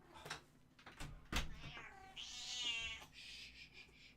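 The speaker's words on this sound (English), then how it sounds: "We've got a very grumpy cat here." A grumpy cat lets out a drawn-out, complaining meow, fairly close and clear, after a few soft knocks and thumps nearby.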